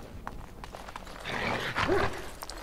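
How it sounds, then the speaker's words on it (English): Dogs barking in the fantasy game Dragon Age: Origins, a few scattered yaps at first then a louder burst of barking and growling near the end, a voice faintly underneath. "Sounds like we have some dogs to deal with."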